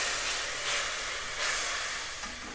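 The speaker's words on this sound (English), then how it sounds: "just deglaze the pan with a boiling water that was 1 cup" Boiling water hits a hot pan of onions for a one-pot chicken dhansak, bursting into a loud, broad steam hiss that swells and fades in waves and stays close.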